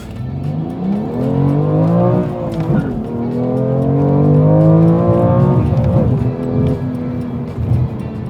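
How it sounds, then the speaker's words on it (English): A manual BMW M2 Competition with a turbocharger accelerates hard, its engine note climbing through a loud revving pull with a brief dip at a gear change, close and continuous without talk. "Quick pull in the M2 comp."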